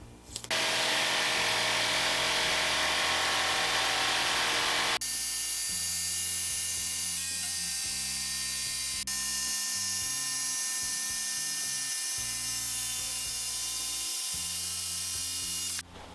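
A Bosch PST800PEL jigsaw cutting wood beyond its roughly 15 mm blade limit along a drawn line. A loud, continuous buzzing motor whine with a rapid reciprocating rattle, shifting in pitch and load partway through.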